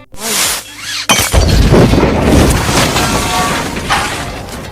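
A loud burst from a building explosion in a film erupts about a second in, followed by a sustained rumbling roar with debris-like crackle that slowly fades.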